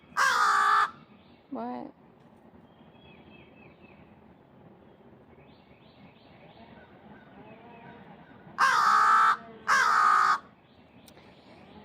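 A crow caws loudly in a few sharp bursts at the start and again near the end, with a fainter call in between, while a person talks quietly through the quieter stretch.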